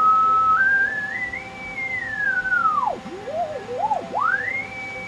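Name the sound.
beat tone changing pitch as radio BFO frequency adjusted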